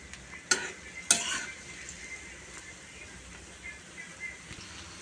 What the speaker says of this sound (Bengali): বড়াগুলো কিন্তু উল্টিয়ে পাল্টিয়ে লাল লাল করে ভেজে নিতে হবে।